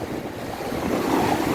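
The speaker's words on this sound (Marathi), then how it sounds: "पाणी लय उडतंय." Sea waves splash and surge nearby along a shore where fishing happens, a continuous rushing wash of water mixed with wind noise on the microphone, no voices.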